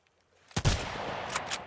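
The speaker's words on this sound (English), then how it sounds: "Who's shooting at me now?" Gunfire in the Sunkenland game: after near silence, a sudden loud shot erupts, followed by a couple of quieter sharp reports ringing out over a lingering rumble.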